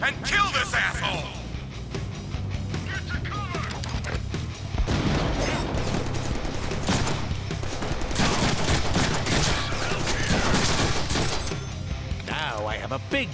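Heavy gunfire from a big gun in a video game, dense continuous bursts of shots and crashes filling the whole stretch, with voices talking over the din.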